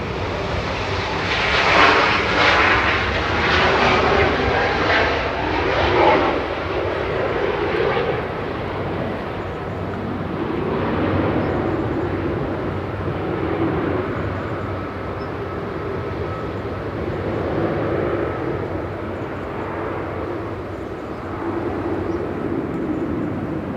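A Lufthansa Airbus A320neo jet departs Manchester Airport for Munich, a sustained rumbling engine roar that rises and falls gently across more than twenty seconds, distant and steady, with no voices.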